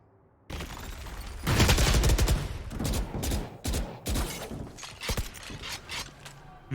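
Volleys of gunfire in the tactical shooter Valorant during a competitive match, sharp cracks and rapid bursts that start suddenly and continue in irregular clusters, loud and close.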